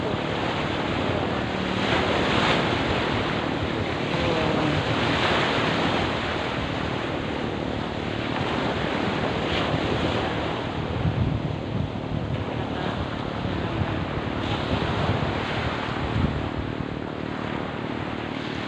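Surf at high tide on a beach, a continuous loud wash of waves rolling in with steady wind noise across the microphone and no voices.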